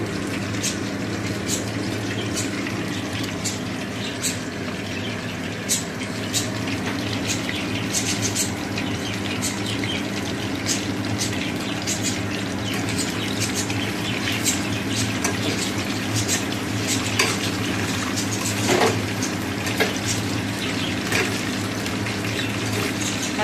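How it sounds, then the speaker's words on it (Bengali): Pakoras fry steadily in hot oil, giving a continuous, fairly loud crackle and bubble with scattered sharp pops throughout, no voices over it. "এই দেখো পকোড়া দিয়ে দিয়েছি তেলের মধ্যে"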